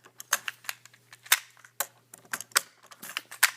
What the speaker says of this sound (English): So here's this one on the Power Rangers blaster. And yes, it does fire, of course.